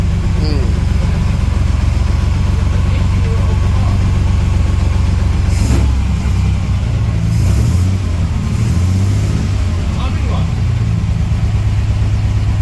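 A 1938 SS Jaguar 3½ litre drophead engine runs steadily while its carburettors are set, a loud, close, even low idle rumble with a few brief revs and people talking nearby.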